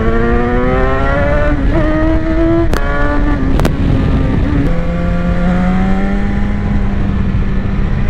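A 2018 BMW S1000XR motorcycle engine drones loudly and steadily while riding through short bends, its pitch rising and dropping with two brief gear-shift breaks and a lower settled note at the end.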